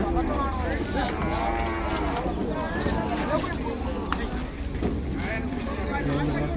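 Cattle lowing among a herd of Ongole calves at a Sunday cattle market in Kodada, Telangana, with several moos rising over steady farmyard noise and people talking nearby.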